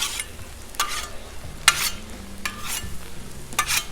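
Al pastor pork and chorizo sizzle on a Blackstone flat-top griddle, a soft constant hiss broken by four sharp scraping spatula strokes, close up with no voices.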